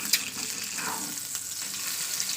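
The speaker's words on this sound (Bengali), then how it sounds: "তো চলুন ডিমটা ভাজা করে নিই।" An egg fries in a pan, giving a soft, steady sizzle with small crackles and pops at a fairly low level. There is no talking.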